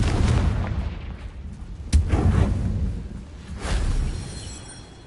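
Confringo fire spell in the Hogwarts Legacy video game, heard as rumbling explosive booms with a sharp blast near the middle and another swell toward the end over a dense, roaring game soundscape.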